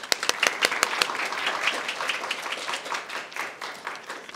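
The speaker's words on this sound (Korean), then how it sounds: "큰 박수로 부탁드리겠습니다." An audience at a university lecture on social contribution bursts into applause, many hands clapping in a dense, lively patter that opens with a few sharp claps and carries steadily throughout, with no voices.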